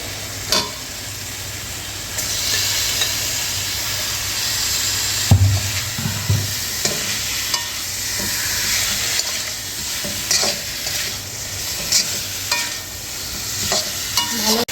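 Chicken and spice paste fry in a pan with a bright, continuous sizzle, broken by repeated stirring scrapes and clatters of a spoon against the pan throughout.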